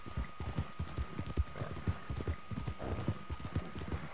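Rapid, rhythmic hoofbeats of a galloping horse in the video game Red Dead Redemption 2, steady and fairly quiet, with a faint electronic tone running underneath.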